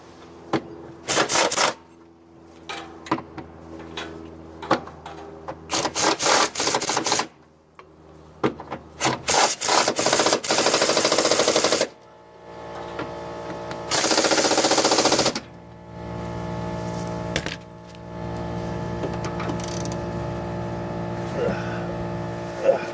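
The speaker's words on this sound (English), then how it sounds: "Go ahead and tighten up with our chassis bolts." Bursts of a power tool or impact wrench tightening chassis bolts on the engine mount of a Toyota MR2 AW11, loud close rattling runs broken by short gaps and lighter clanks, with no talk.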